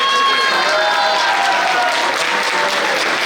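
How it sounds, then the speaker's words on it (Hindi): A convention audience breaks into dense, loud, sustained applause, a continuous wash of many hands clapping close by with some crowd noise mixed in. "मैं चाहूंगा आईटी नेट सिस्टम के फाउंडर और हमारे ग्रेट मेंटर मिस्टर पॉल भी बसनायक सर के लिए एक बार जबरदस्त तालियां"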